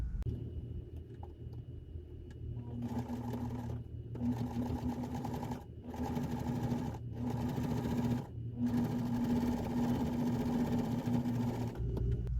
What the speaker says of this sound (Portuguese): Vou levantar apenas esse tecido, a aba fica para baixo e pesponto aqui.